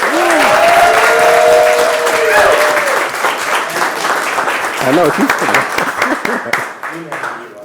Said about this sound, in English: So can we please give a round of applause to Martin Collins.